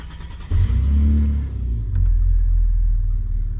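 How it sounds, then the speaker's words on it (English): A Chrysler Crossfire SRT6 track car starts: a starter whir, then the engine catches with a loud bark and settles into a deep, steady idle rumble close by. "And let's go ahead and start it up."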